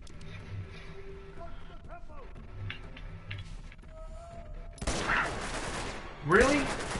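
Gunfire in the video game Uncharted: Drake's Fortune, scattered clicks and ticks giving way to bursts of shots, with a sharp loud burst near the end over game ambience and voices.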